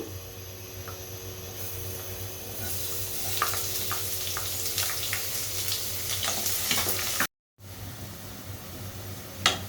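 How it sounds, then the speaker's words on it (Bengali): Sliced onions frying in hot oil for beresta, a steady sizzle that builds as they hit the pan, with scattered crackles and pops and a short gap before the frying resumes. "এখানে আমি পেঁয়াজ বেরেস্তার জন্য দিয়ে দিচ্ছি।"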